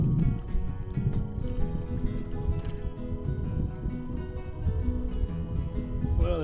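An auxiliary engine drones steadily on a small standing-lug-rigged sailboat on calm water, a low continuous rumble close by with some wind buffeting on the microphone and no talk.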